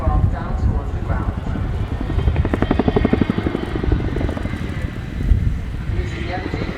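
An RAF Chinook HC.6A twin-rotor helicopter performs a flying display at an air show, its deep rhythmic rotor thud loud and continuous while an announcer talks over it.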